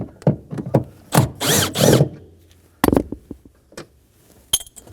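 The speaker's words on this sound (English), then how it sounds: "Using a Phillips screwdriver, in this case a Phillips drill," A power drill with a Phillips bit whirs in short bursts removing screws from a 2011-2016 Kia Optima during rear ABS wheel speed sensor replacement, with a couple of longer runs, plus clicks and metallic clinks between them.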